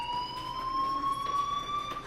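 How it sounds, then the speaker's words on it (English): A fire alarm rings in the video game Life is Strange, a steady high electronic tone with overtones holding at moderate, even loudness throughout with no talking. "Hey, do you hear that fire alarm?"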